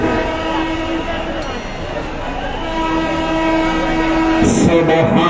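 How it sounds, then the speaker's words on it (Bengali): A train rumbles past with a steady, heavy roar. A long, sustained horn sounds partway through, and a sharp, bright burst comes near the end. The noise is loud and close, and faint speech sits under it. "সাবধান থাকবেন, ট্রেন আসতেছে।"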